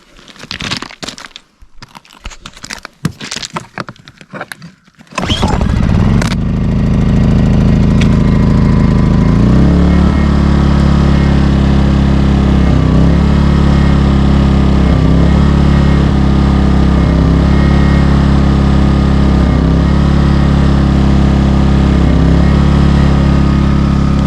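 A new portable generator is pull-started in cold weather, a few sharp rustling pulls giving way to a loud, steady engine drone that runs continuously with a faint periodic pulse.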